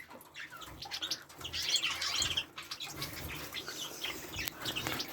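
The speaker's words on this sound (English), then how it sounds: "As you can see, these are all the zebra finches." Zebra finches in an aviary flight chirp and tweet in quick, overlapping bursts with occasional wing flutters, a busy chorus of small birds heard at moderate distance.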